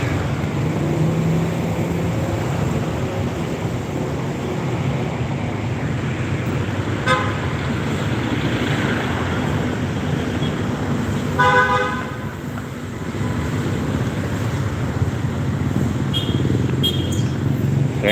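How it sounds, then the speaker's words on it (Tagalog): Heavy street traffic rumbles continuously, with several car horn toots around the middle and later, some short and some held, the busy roadway noise steady throughout. "Ang daming sasakyan, hindi makatawid."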